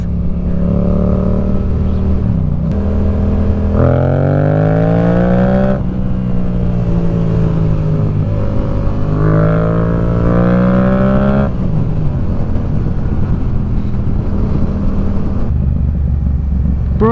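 A brand-new motorcycle engine revs loudly and close, its pitch climbing and falling in several sustained pulls over a steady idle rumble, with no talk.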